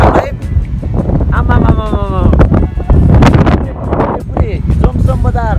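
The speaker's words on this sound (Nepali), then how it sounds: "यहाँनिर हावाले पुरै उडाउला जस्तो भइरहेछ।" Strong gusting wind at Jomsom in Mustang roars continuously and buffets the microphone with a heavy low rumble while a person talks over it throughout.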